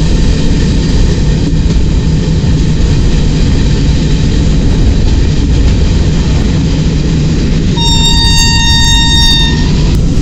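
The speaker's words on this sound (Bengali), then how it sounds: "ট্রেন ঠিক টাইমেই চলছে" The Teesta Torsa Express from Sealdah to NJP runs along in a loud, constant rumble and rattle heard from inside the train, with a long horn blast sounding near the end.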